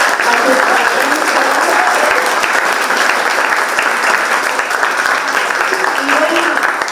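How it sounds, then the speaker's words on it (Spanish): A school audience applauds for teachers and parents, dense and loud clapping held steady for several seconds, while a voice murmurs faintly underneath. "un aplauso nuevamente a todos sus maestros, a sus padres"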